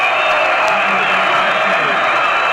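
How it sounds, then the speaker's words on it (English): Army Cadet Corps crowd cheering at the 1963 Army vs Navy football game, a steady, dense roar of a large stadium crowd with no break, a commentator's voice faintly mixed in. "there's the Army, there's the Cadet Corps cheering him on"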